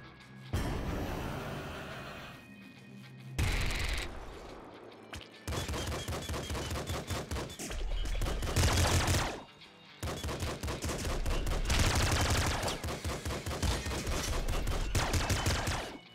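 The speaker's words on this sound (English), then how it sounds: "Triple machine gun." A triple machine gun fires in long, rapid, loud bursts in the video game Nuclear Throne, with brief pauses between sustained volleys.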